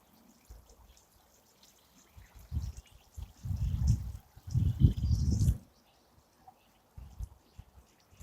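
Water pouring and splashing onto plants at an allotment plot, coming in several uneven bursts of trickling and spattering with quiet pauses between, fairly close, with faint birdsong in the background.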